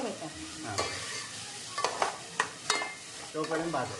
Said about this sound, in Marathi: थोडासा झिंग्याचा रंग बदलेपर्यंत परतून घेतलाय